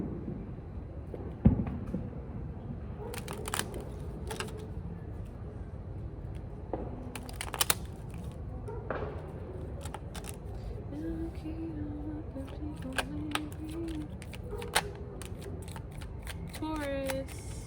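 A deck of blessing cards being handled and shuffled at close range, with papery riffles and flicks, a few sharper snaps and rustles, while a voice talks over it.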